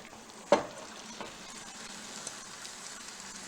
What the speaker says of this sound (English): You feel a little sizzle going on.